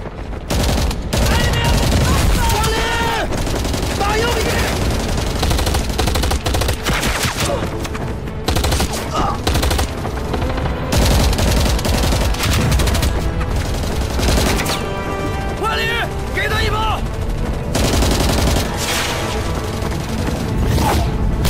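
Sustained gunfire and bursts from a battle on a bridge, with dense, continuous shooting and booms filling the scene while voices shout now and then beneath the din.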